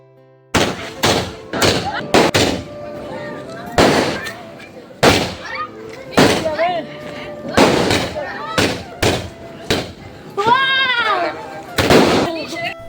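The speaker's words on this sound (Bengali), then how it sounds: "তারপর একটা বারুদ শট ফাটালাম।" A series of sharp, loud bangs at irregular intervals, with a whistling, rising crackle near the end and voices in the background.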